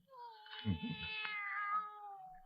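A cat meows in a 1947 radio drama based on Poe's The Black Cat, one long, drawn-out wailing meow that rises and then fades, close and clear in a quiet room.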